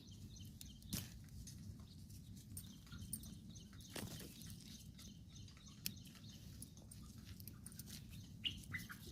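Faint bird chirps sound intermittently over a quiet rooftop garden, with a few sharp tweets and soft taps.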